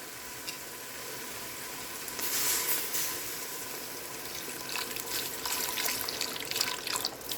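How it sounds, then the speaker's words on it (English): Chicken broth pours steadily into a pot with a soft, splashy hiss, followed by light sizzling and occasional clinks. "I am going to go ahead and add in my chicken broth."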